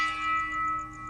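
A single bell rings out once with a bright strike, then its clear tone hangs and slowly fades, alone and close.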